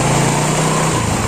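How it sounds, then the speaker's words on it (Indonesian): Yamaha Pino automatic scooter engine revving after repair, a steady loud close-up drone with a low hum that drops partway through as the throttle eases. "Sekarang kita tes, coba digas"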